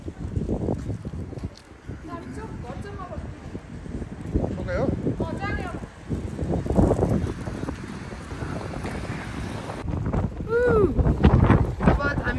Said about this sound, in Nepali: कस्तो हावा चलिरहेछ